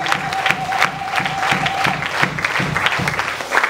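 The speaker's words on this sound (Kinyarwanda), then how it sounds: "ibiganza byawe kugira Imana amashyi n'izina rya Yesu." Church congregation clapping together in steady applause, a dense continuous patter of many hands filling the room with a faint sustained tone beneath, no voices standing out.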